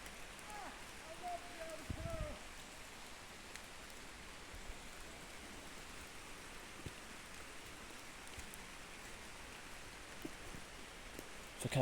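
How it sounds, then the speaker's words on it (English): Rain falls outdoors beside an old stone well, a soft, even hiss with faint drop patter that continues throughout and stays low and distant, while a brief voice sounds near the start. "hopefully you can just hear the rain powering down now"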